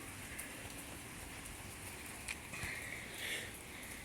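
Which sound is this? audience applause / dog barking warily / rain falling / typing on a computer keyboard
rain falling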